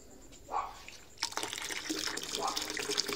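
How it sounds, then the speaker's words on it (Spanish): Tap water pours steadily into a carp fish tank, a continuous hiss and splash that starts partway through and runs to the end, with brief talk nearby. "Y ya estoy llenando de agua para la pecera de las carpas."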